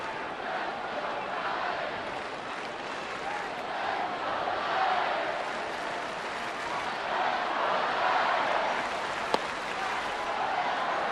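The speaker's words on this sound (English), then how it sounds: "as you heard, lots of cheering for Belt" Stadium crowd at a San Francisco baseball game, a broad, distant roar of cheering and chatter that swells and eases, with a commentator talking over it.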